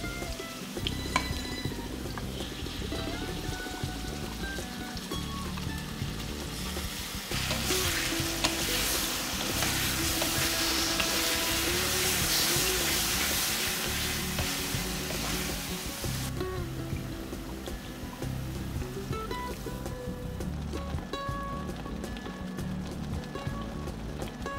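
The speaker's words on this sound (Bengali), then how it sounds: "মাঝারি আঁচে ঢাকা দিয়ে ভাজবো যতক্ষণ না আলুটা একটা হালকা বাদামি রং ধরে" Potatoes fry under a lid over medium heat, giving a steady, fairly faint sizzle and hiss throughout with a slightly louder stretch in the middle and no voices.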